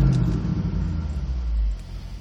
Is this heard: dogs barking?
no